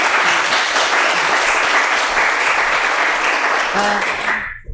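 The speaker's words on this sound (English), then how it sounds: "Big applause to Reverend Huang." Audience at a temple honor ceremony gives Reverend Huang a loud, continuous round of applause that fades abruptly at the end, with a brief voice near the close.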